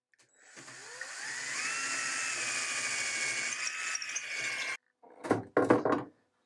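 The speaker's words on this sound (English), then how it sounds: "drill it out just a little bit more" A power drill whirs steadily for several seconds, boring out an old dowel in wooden outdoor furniture, its pitch rising as it spins up, then cuts off before a few short scraping knocks follow.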